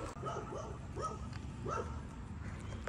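Small dog whimpering and yipping outdoors on a historic downtown street, four or five faint short rising cries over steady background noise.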